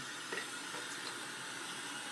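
Water runs steadily from a tap while makeup brushes are washed with baby shampoo, a soft continuous hiss of flow with no talking.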